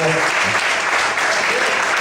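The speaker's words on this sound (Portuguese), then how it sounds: "Você pode desocupar a sua mão, aplaudir o Senhor" Loud, dense applause from a large church congregation, continuous throughout, with voices mixed into the clapping.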